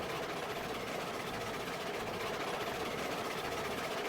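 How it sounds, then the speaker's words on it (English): A steam locomotive in the game Railroads Online works up a 5% mountain grade, its exhaust beat a faint, steady rumble under broad hiss, quiet and constant throughout. "I'm waiting to hear a difference in the exhaust beat."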